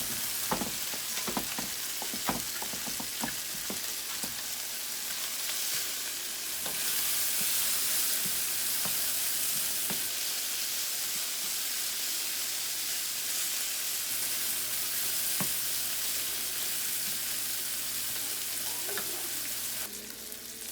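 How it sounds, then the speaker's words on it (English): Bacon, onions and peppers sizzle steadily in a hot pan, a dense continuous fry with sharp utensil clicks and taps over the first few seconds, then mostly unbroken crackle, close and fairly loud with no talking. "While this bacon's going, got the onions and peppers going"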